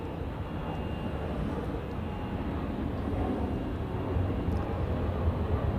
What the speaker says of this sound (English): you guys ready for the Iceland Air 757 with the special livery?